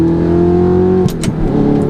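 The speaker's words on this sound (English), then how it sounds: "first drive out in my Audi R8 with the Armytrix titanium exhaust" Audi R8 fitted with an Armytrix titanium exhaust drives over a bridge, its engine droning loud and steady before a sharp shift in pitch midway, with brief crackling bursts as the revs change.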